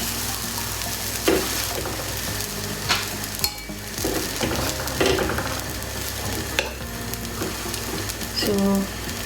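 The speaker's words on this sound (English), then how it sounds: "Now I'm going to put this bread in a pan." Bread frying in a hot pan, a steady sizzle running throughout at moderate loudness, broken by a few brief scrapes and clinks of a utensil against the pan.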